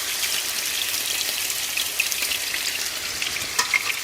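Thin chicken cutlets hiss and crackle steadily in a hot pan, a dense close sizzle with a few brief pops and no talking.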